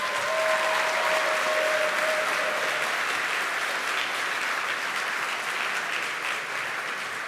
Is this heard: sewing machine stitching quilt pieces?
no